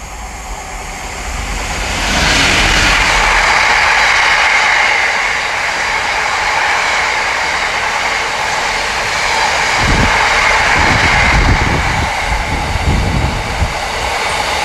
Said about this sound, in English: Here comes a Freightliner.